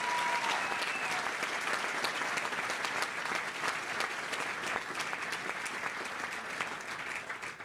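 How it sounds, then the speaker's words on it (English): Audience applause for golfer Tiger Woods at the opening celebration of the Tiger Woods Learning Lab in Philadelphia: a dense, steady wash of clapping from a sizable crowd that holds loud for the whole stretch. "Give him a round of applause for his commitment"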